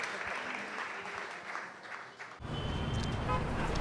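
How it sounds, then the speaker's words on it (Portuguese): Applause breaks out, dense clapping that swells louder in the second half, with a faint car horn and street noise in the background. "Uma salva de palmas"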